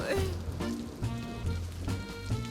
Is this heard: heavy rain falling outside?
yes